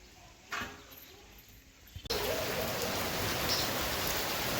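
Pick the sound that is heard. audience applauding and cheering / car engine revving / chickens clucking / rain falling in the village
rain falling in the village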